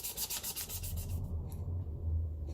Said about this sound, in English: I've gone straight for a really, really, really smooth sandpaper